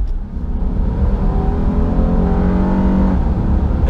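A 2017 Honda Ridgeline RTL AWD pickup accelerates hard onto a highway, its engine note rising steadily under load from inside the cabin, loud and continuous with road and wind noise beneath.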